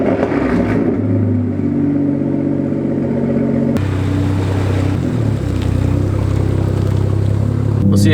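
A BMW E36 M3 fitted with a big single turbo accelerates hard and very loudly nearby, its engine roar rising through the revs with a sharp shift partway through.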